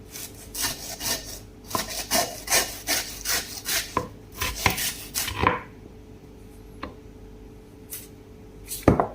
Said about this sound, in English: you can take the shanks off if you want it with the saw there